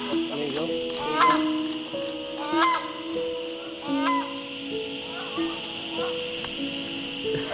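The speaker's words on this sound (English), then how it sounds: "It makes their bird calls pretty special." Loud honking, goose-like bird calls ring out in Malaysia, several repeated trumpeting calls spaced a second or so apart over steady background ambience.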